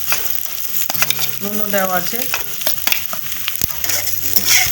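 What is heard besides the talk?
stirring fried potatoes into a pan for banana flower curry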